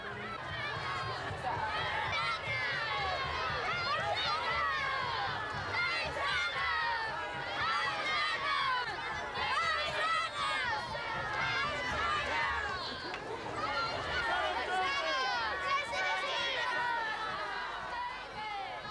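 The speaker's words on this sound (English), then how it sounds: "the happy crowd, contentedly recreating that first Palm Sunday, moved off into North Parade to find a growing number of followers" A Palm Sunday procession crowd in Grantham chatters continuously, many overlapping voices forming a steady, fairly close babble of talk and movement.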